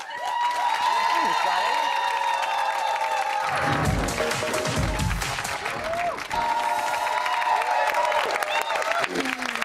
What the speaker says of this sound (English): I was just looking at Richard Blackwood clapping.